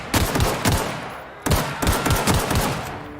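Gunfire during a fight with marauders in The Outer Worlds video game: rapid, loud bursts of shots in two clusters separated by a brief lull, close and sharp.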